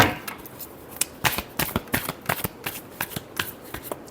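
Tarot cards are shuffled by hand in a quick run of crisp riffling flutters and soft slaps, close and clear, with no talking.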